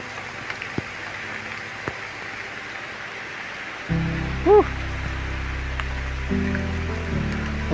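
Rain falls steadily on a forest hiking trail with wooden stairs on Mount Kencana near Sukamakmur, Bogor, making a continuous soft hiss, joined partway by a low droning hum and brief tonal chirps.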